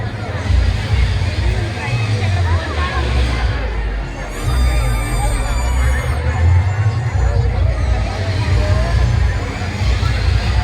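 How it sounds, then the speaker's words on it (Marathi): Dense crowd babble at the Kokan festival in Kalyan on a busy Sunday, many overlapping voices and general hubbub filling the space steadily, with a brief higher tonal sound drifting through midway. "आज रविवार आहे त्यामुळे लोकांची गर्दी पण बरीच आहे"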